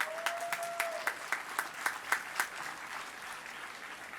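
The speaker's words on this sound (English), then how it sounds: "A round of applause for faculty." A university convocation crowd gives faculty a round of applause, soft distant clapping with a rhythmic pulse of louder unified claps, thinning out toward the end.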